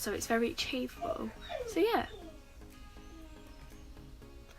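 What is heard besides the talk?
dog crying out the window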